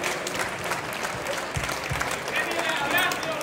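Audience applause at a digital art awards ceremony, a steady dense patter of clapping that holds at an even level throughout, with voices faintly mixed into the crowd.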